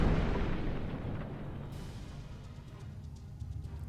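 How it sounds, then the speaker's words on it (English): An Undine ship explodes in Star Trek Online, a deep rumbling blast that decays over a few seconds, with a sharp upper burst partway through, alone and without talk. "The Undine ship has been destroyed."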